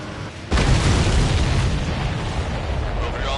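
Missiles and fireworks-like explosions in the Ace Combat 7 flight combat game open with a sudden loud boom after a quiet half second, then a rumbling, crackling blast that slowly fades.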